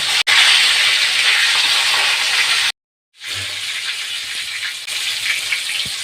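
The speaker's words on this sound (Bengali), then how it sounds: "মাছ ভাজা" Rohu fish pieces fry in hot oil with a loud, dense hissing sizzle that cuts out abruptly for a moment, then returns slightly softer and keeps crackling.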